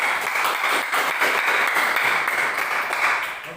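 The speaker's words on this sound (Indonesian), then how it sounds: "Kita tepuk tangan dulu." Classroom audience applause for the first group after a discussion presentation: a dense, steady wash of many hands clapping, fairly close and even throughout, tapering slightly at the end.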